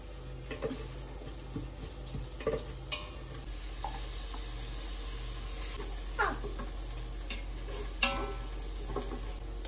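Curry leaves and chillies fry in a pan with a steady sizzle, broken by intermittent scrapes and clinks of a stirring spoon close by.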